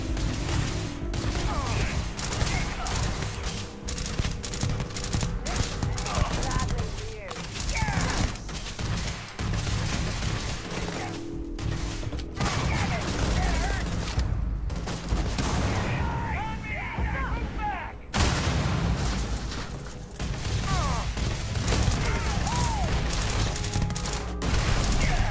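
Bursts of gunfire in a Starfield combat fight, dense rapid shots and booms running almost nonstop with a voice talking over them, plus a brief lull near the end before the shooting resumes.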